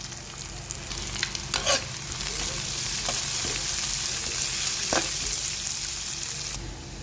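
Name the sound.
garlic, ginger, green chili, curry leaves frying for tempering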